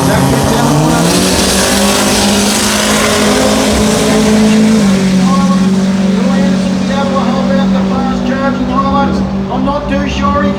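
Race cars, among them a Tuner Racing Hilux, roar loudly at a Brisbane racing final, engines holding a sustained high drone with a shift in pitch partway through and faint tire squeal, while a commentator talks over the noise.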